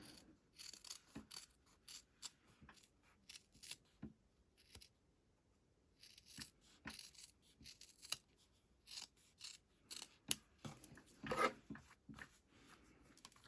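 Scissors trimming an ultrasuede bib, heard as quiet, close snips and rustles in irregular clusters with short pauses, faint overall and with no talk.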